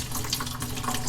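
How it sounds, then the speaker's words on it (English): Muddy water seeping through a soil sieve into a bucket during a soil sieve analysis, a steady close trickle and splash of flowing water, fairly loud and without talk. "that's the reason for the color of the water seeping through the sieve"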